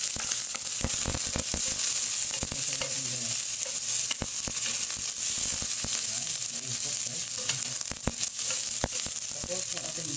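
Garlic and onion sizzle steadily in hot oil for chicken adobo, a loud continuous crackle close up with light stirring clicks and scrapes throughout.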